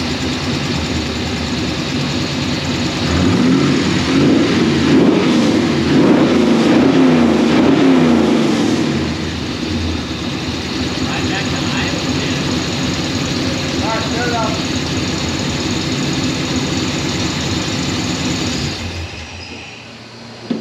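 A car engine idles steadily after its first start, a continuous low hum running throughout with people talking over it, before it cuts off near the end.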